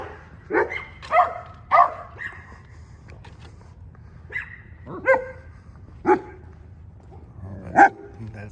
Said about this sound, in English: let me get past the barking ass dogs